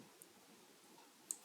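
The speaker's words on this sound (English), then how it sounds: "clicking on the next label." Computer mouse clicks while building a Salesforce Lightning app page: two or three sharp, faint clicks, spaced apart, over quiet room tone and followed by a quick close pair at the end.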